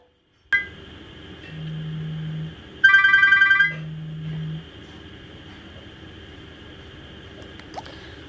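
A telephone rings in a quiet room with a steady hum: two short ring bursts, then a brighter electronic trill, closing with a faint click and low background noise.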